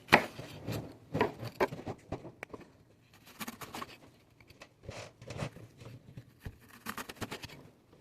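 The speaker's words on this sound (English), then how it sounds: "you just cut it down the centre and make little slats, and then that's how you get a nice fine dice" A knife taps rapidly on a cutting board while finely dicing a vegetable for potato and celeriac soup, in irregular bursts of quick close chops with short pauses between.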